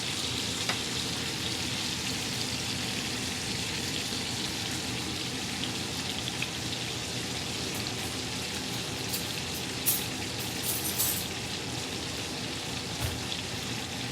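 Ribeye steak sizzling in a cast iron pan with garlic butter, a steady close hissing and crackling fry with small pops throughout, even in loudness and free of talk.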